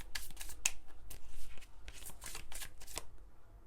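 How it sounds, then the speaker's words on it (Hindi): Tarot cards being shuffled and drawn from the deck, a run of quick crisp riffling snaps and flicks at close range in irregular bursts, with no talking. "एक और कार्ड लूँगी मैं, एक और कार्ड फ्रॉम दिस टैरो"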